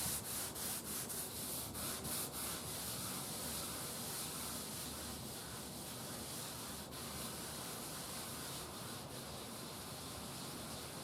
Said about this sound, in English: this is pure lacquer thinner, and we just take it and start rubbing